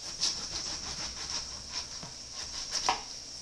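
Knife chopping through chicken on a board in a home kitchen, a series of close, sharp cuts over a steady high hiss.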